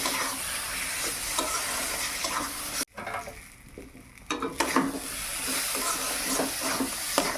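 Mashed seeded-banana chechki with cumin frying and being stirred in a pan, a close, continuous sizzle with scraping strokes that drops away briefly midway and then returns.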